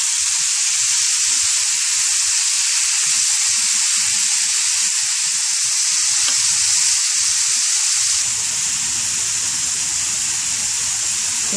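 Spinach sizzles and fries in a pan for potato and spinach curry, a continuous bright hiss with faint crackles and soft stirring knocks underneath.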